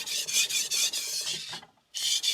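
A hard stainless Victorinox chef knife scrapes across a King NEO 800 whetstone in quick, close rasping strokes, about six back-and-forth passes with a brief pause before the strokes resume.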